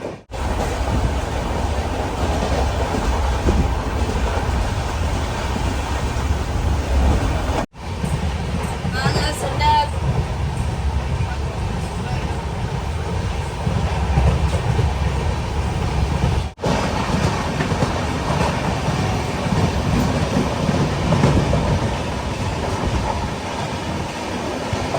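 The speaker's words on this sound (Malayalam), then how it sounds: "ട്രെയിൻ പോകുന്ന സ്പീഡ് കണ്ടാ" A superfast express sleeper train runs at speed on the Chennai to Kanniyakumari line, a steady low rumble and rattle of the carriage heard from inside, continuous for the whole stretch with a brief break and faint voices underneath.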